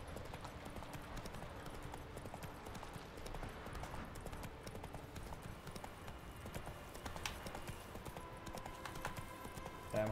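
Roach the horse galloping in the Witcher 3 video game, a steady, soft hoof rhythm running continuously beneath ambient game sound with no one talking.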